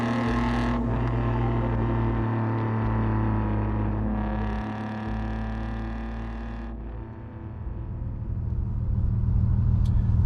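A 1995 Nissan Skyline R33 GTS, a right-hand-drive import, drives on the road with a steady, loud engine drone and low rumble throughout. The engine note dips and swells as it shifts, with no talking.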